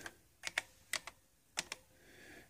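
Keys are pressed on a Canon Typestar 110 electronic typewriter, producing faint, sparse clicks in small irregular clusters within a quiet room.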